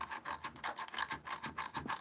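A walnut wooden bowl being sanded by hand with fine sandpaper, a steady rasping scrub in quick back-and-forth strokes, close and continuous with no voices.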